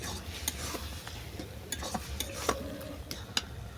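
Fish and mashed gab leaves are stirred in a pan with a spatula, making a low frying hiss under repeated scrapes and clinks.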